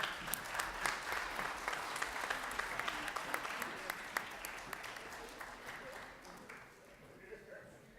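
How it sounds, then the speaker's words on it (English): Audience applause at a haiku festival, a dense burst of clapping that holds steady for several seconds and then thins and fades toward the end, with scattered voices under it. "Give them another round of applause."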